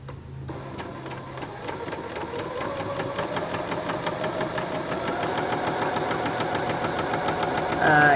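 A sewing machine stitches quilt block pieces in a steady, continuous mechanical whir. It runs alone with no talk, and its speed builds slightly toward the end.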